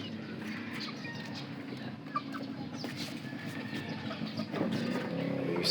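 Pet chickens, native Filipino fowl kept at home, clucking softly and intermittently at close range against steady farmyard background noise, with no talking.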